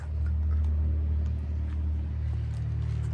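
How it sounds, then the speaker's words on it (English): Sand car motor running steadily, a loud, continuous low rumble close by, even and unbroken throughout with no talk over it. "That's the motor, guys."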